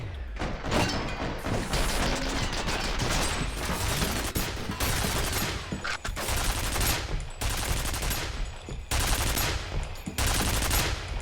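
Sustained turret machine-gun fire in F.E.A.R. Perseus Mandate, loud and continuous automatic bursts with brief gaps, hammering near and alone for the whole stretch.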